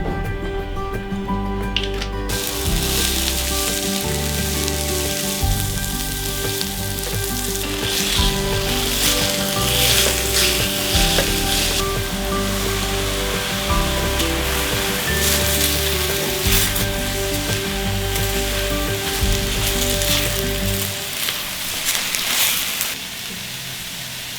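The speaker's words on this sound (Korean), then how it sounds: "두부를 그냥 이렇게 후라이팬에 볶아서 수분을 더 날려주고 좀 고소하게 해줄 거고요." Tofu stir-frying in a frying pan gives a loud, steady close sizzle with frequent scraping and stirring, continuing for a long stretch before dropping away near the end.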